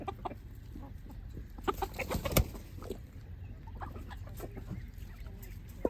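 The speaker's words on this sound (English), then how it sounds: "What do you think about these chickens?" Chickens clucking inside a farm coop at feeding time, with goats nearby: scattered short clucks and calls from several birds at close range over a steady low barn hum, with one louder burst midway.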